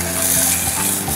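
Meat cooking over an open campfire in an outdoor field setting gives a steady, soft hissing sizzle with light stirring clatter, continuous and fairly close, with no talking.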